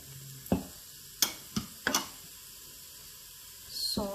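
Spices, including coriander and cumin powder, chili and turmeric, are stirred as they fry in an Instant Pot, with a few sharp scrapes and clacks of the spoon over a faint, low sizzle.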